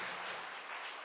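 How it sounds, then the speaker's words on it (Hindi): Church congregation at a Sunday evening Hindi service clapping loudly together, a dense, continuous wash of applause filling the room. "क्यों ना हम परमेश्वर के लिए जोरदार ताली बजाते इस समय।"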